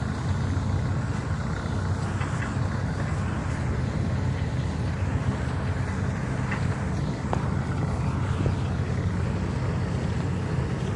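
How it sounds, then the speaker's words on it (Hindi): A harvesting machine cutting paddy in a rice field gives a steady, loud engine drone with a rumbling, churning low end that runs without a break. "मशीन धान काट रही है"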